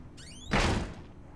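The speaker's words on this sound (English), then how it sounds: "I would not slam the doors where there is crazy people running around" A door slamming shut in the horror game Outlast, one loud heavy thud preceded by a brief rising creak, standing alone with a short fading tail.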